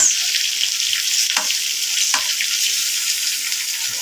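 Galunggong fish frying in a pan, a steady close hiss of sizzling oil with a couple of faint knocks, continuous and fairly loud with no talking.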